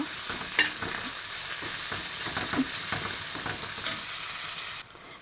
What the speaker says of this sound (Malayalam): ഇതാ ഒരു സവാള കട്ട് ചെയ്തിട്ട് കൊടുത്തിട്ടുണ്ട് വലിയൊരു സവാള